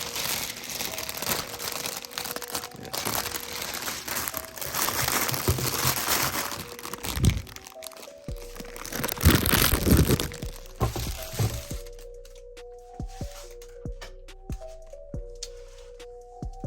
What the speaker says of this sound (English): We gotta get our plastic wrap on.